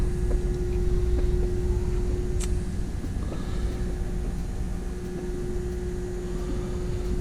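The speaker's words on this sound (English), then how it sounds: "this is the engine room on the string of pearls. We got MAN marine diesels." A steady, loud drone of MAN marine diesel engines in a boat's engine room, with a deep low rumble and a constant hum, running without letup, with faint clanks in the background.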